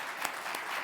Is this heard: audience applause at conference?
yes